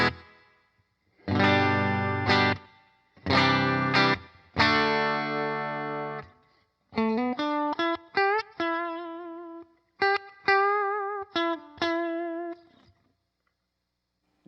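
Clean electric guitar on a budget Grote GTLM-4 Telecaster-style body, bridge pickup with a light touch of spring reverb, playing strummed chords then picked single notes and double-stops in short phrases with brief gaps, close and alone.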